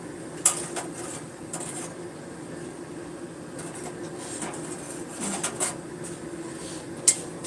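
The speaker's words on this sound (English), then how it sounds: "hear the rattling because I got the hammers that hang off the side" Metal hammers hanging off the side of a piece of equipment rattle in sparse, light metallic clinks over a steady low background rumble, with no talking.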